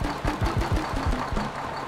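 Bulldozer engine in the video game Demolish and Build 2018, a short burst of rapid low chugging pulses that settles into a rougher idle rumble, close and moderately loud.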